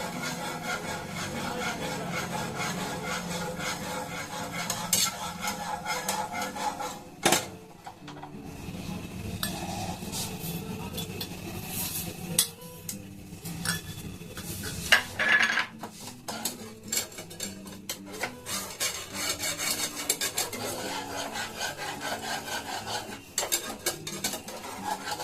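Milk mixed with powdered milk stirred steadily in a pot for making sweet curd, a continuous close rubbing and scraping of the utensil against the pot with occasional sharper knocks and clinks, no talking over it.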